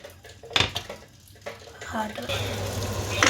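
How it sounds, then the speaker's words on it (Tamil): Hot oil for frying achu murukku sizzles and crackles close by as the iron mould heats in it, rising in intensity, with clattering of a pan or utensil near the start. "இது வந்து எண்ணெய் இப்போ கொதிக்குது"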